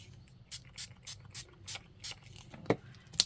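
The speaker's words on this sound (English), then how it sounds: "I just like to spray water on things apparently" Water spritzed from a spray bottle onto a gel printing plate during paint work, a string of about nine short, soft hissing bursts in steady rhythm, fairly close, with a sharper tap near the end.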